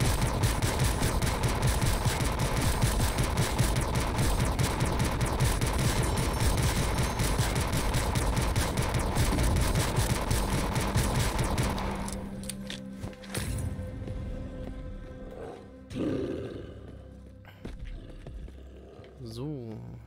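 Continuous rapid automatic gunfire with unlimited ammunition in the survival shooter Sker Ritual, loud and relentless for about twelve seconds, then stopping, followed by quieter scattered game noises and a voice.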